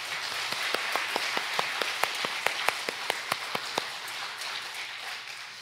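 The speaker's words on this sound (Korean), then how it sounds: "우리 하나님께 영광의 박수 올려드릴까요?" A church congregation claps together in a steady, rhythmic applause of sharp, evenly spaced claps, with a dense crowd of clapping hands underneath.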